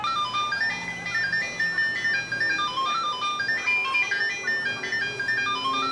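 An ice cream truck plays its looping electronic jingle, a bright repeating melody that stays steady and fairly loud throughout with no talking.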